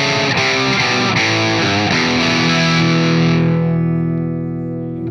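Electric guitar through a Metaltronix M-2000 100-watt all-tube amplifier turned down to a lower volume, loud distorted chords strummed then left to ring out and slowly fade, with no talking.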